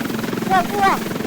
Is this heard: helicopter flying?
yes